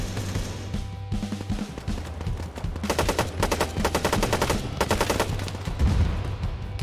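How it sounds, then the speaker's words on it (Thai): Sustained automatic gunfire from the Arma 3 video game rattles in dense rapid bursts over a constant low engine hum, loud and continuous with brief gaps between volleys. "มันยิงจากไหนเนี่ย"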